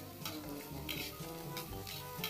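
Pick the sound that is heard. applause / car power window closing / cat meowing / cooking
cooking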